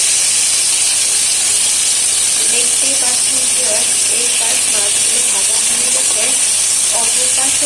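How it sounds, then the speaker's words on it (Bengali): Fish sizzles steadily in hot oil after being flipped in the pan, a loud, continuous hiss and crackle that fills the clip, with faint voice traces beneath. "মাছগুলো এখন উল্টিয়ে নেব"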